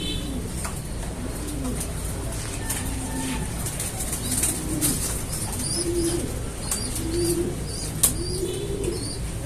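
Soft, low pigeon coos repeat every second or so over a steady background hum, with faint chirps and a brief flutter.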